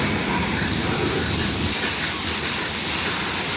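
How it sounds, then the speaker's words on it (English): A long CN freight train rolls past on the rails at Bayview Junction, giving a steady, loud rumble with wheel clatter that fills the whole span, heard up close and without talk. "Oh, this is one hell of a long train."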